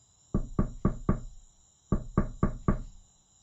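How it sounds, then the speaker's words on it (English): Knocking at a gate in two sharp groups of four evenly spaced raps with a short pause between the groups, loud and close against a quiet background. "no one heard Clo knocking at the gate"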